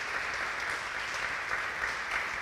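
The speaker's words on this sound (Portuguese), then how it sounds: "Dá uma salva de palmas para Jesus." A church congregation clapping during a service: sustained, dense applause from many hands, even and fairly loud across the whole stretch.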